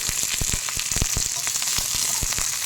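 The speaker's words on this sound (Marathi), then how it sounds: "तेलात छान लसूण तळून निघत आहे" Garlic frying in hot oil while making Maharashtrian green chili thecha, a dense steady sizzle with crackling pops throughout, close and loud, with no voices.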